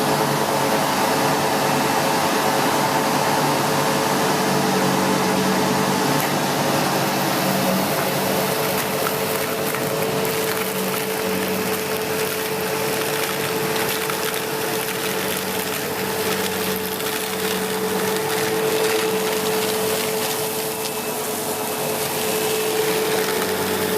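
A SEBO X4 Extra upright vacuum cleaner with a nearly empty bag runs continuously, a loud, steady whirring roar that holds for the whole stretch with no voices.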